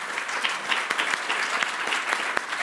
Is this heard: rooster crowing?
no